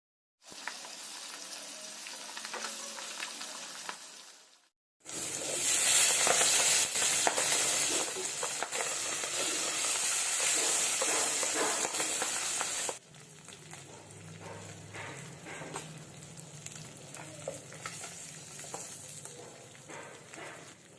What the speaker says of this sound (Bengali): এবার একই প্রসেসে আমি বাকি মাছগুলো ভেজে নিচ্ছি।